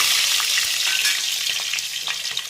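Steady hot-oil sizzle with green chillies frying after mustard seeds and fenugreek, a loud continuous crackle and a few sharper pops throughout, no voices.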